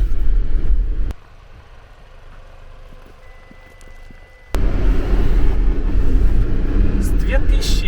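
Haval H6 car driving on a winter road, steady engine and tyre rumble filling the clip, dropping briefly quieter before returning loud and continuous.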